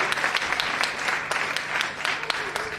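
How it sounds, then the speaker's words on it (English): An audience at an international conference in Dewas gives a sustained round of applause, dense clapping that continues steadily and fills the room evenly for the full stretch. "I think we should give a round of applause"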